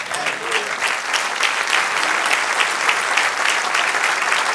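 A church congregation claps for the Lord in steady, dense applause, close and even throughout, with a faint voice buried underneath.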